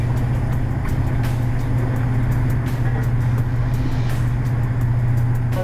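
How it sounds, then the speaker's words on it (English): A pump runs during jet fuel sampling, making a loud, steady, close mechanical drone with a strong low hum and a continuous rushing noise that never lets up. "They have started the pump. You can hear the sound."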